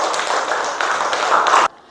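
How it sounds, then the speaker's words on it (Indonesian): Classroom of students clapping hands together in a brief, dense burst of applause that fills the room, then cuts off abruptly. "Tepuk tangan nak."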